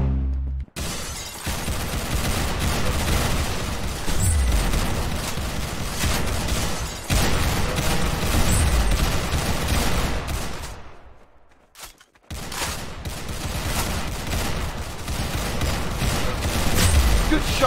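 Gunfire in the Roblox shooter Arsenal, a dense, loud barrage of shots and impacts running almost continuously, with a brief drop near the middle before the firing picks up again.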